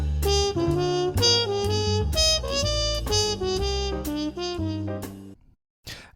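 Trumpet line built on two-note enclosures over a minor ii V i backing, a quick run of bright notes above sustained low chords that cuts off to near silence at the end.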